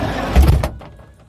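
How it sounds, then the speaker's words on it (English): Van door sliding shut with a loud thud near the middle, followed by a muffled quiet as the interior seals off. "If I close the van door,"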